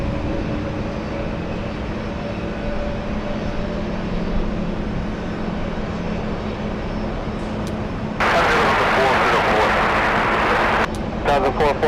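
An Alaska Airlines airliner flies near JFK airport, a steady distant engine drone with tonal hums that swells into a louder broadband roar near the end.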